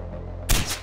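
A single sharp sniper rifle shot from Far Cry 4 cracks out loud and close after a quiet lull, followed by a brief echoing tail.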